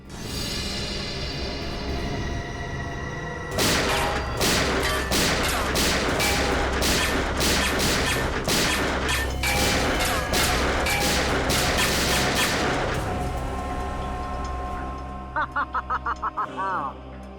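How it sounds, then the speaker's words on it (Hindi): Rapid bursts of police gunfire in a Hindi TV crime drama, a dense volley of sharp shots lasting about ten seconds, loud and close, followed by a few quick trailing shots after a pause. "क्यों फिजूल में कानून की गोलियां बर्बाद कर रहे हो"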